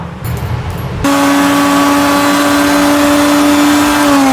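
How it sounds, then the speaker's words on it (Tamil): After a brief low rumble, a mixer grinder starts up and whirs with a loud, steady high-pitched motor whine, grinding a green gravy paste with yogurt, close and continuous, without speech. "இதை நல்ல பேஸ்ட் போல் இப்போ அரைச்சி எடுத்துக்கலாம்."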